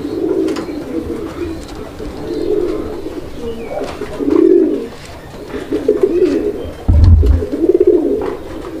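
Golla pigeons, a breeding pair of this local breed, coo in low repeated throaty bursts close by, with a heavier thump near the end and faint background chatter.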